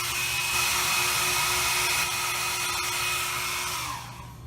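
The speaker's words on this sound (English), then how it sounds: "you can use a heat gun or even a hair dryer just to shrink it." A steady blowing whir of a heat gun shrinking tubing runs continuously with a faint tonal hum, then tapers off near the end.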